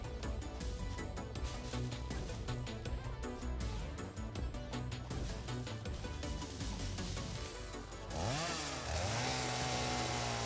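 Chainsaw in modded Satisfactory cutting flowers, a loud continuous buzzing engine drone that rises sharply in pitch as it revs near the end, close and uninterrupted.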